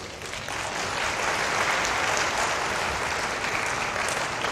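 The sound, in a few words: audience applause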